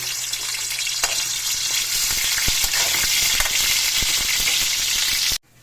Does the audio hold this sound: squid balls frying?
yes